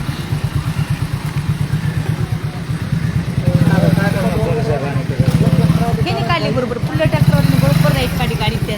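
A tractor and a bus stuck together on a narrow road chug and idle loudly close by with a rapid, rhythmic throb, while people talk over the noise.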